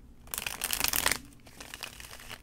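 Tarot cards being shuffled by hand, a quiet, close riffling and flapping that is busiest early on and then continues more softly as lighter card rustling.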